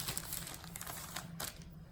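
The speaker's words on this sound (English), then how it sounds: "which for this batch is a plastic bag" A plastic bag holding a batch of olive oil flour tortilla dough crinkles and rustles close up, a steady dense crackle with a few sharper bursts, no voices.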